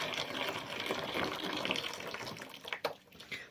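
Boiling water is poured quickly from a kettle for a home soda inhalation, a soft, fairly faint gushing and splashing that runs continuously, with a few sharper splashes near the end.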